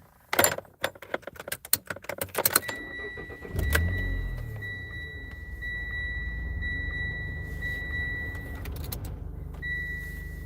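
A car engine starts after some clicks and jangling, then idles steadily with a low rumble and a faint high whine.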